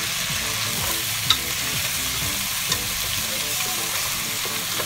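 Chicken pieces searing in a crowded pan as carrots go in, giving a steady close sizzle with a couple of small clacks from the utensil, and no voices.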